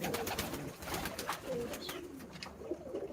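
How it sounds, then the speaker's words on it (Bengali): Pigeons coo softly and repeatedly in a loft housing breeding pairs, low throaty calls overlapping one another at close range with no talking. "এই মুহূর্তে কবুতরগুলো যেভাবে আছে আলহামদুলিল্লাহ ভালোই আছে"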